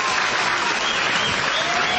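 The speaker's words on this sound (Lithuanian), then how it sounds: "visa publika atsistojus ploja." An audience applauds steadily at a Lithuanian wedding, a dense continuous clapping heard as playback, even in loudness throughout.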